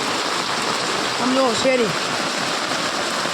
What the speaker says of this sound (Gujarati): બહુ ખતરનાક વરસાદ આવે છે